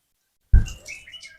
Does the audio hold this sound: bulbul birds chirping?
yes